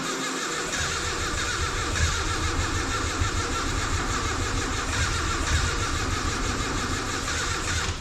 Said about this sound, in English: Then it was finally time to see if the car would start.